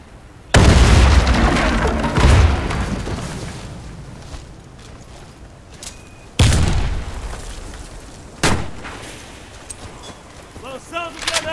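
Loud grenade blasts in a round-based shooter game: a heavy booming detonation with a second close behind, then two more sharp explosions later, each decaying into rumbling noise.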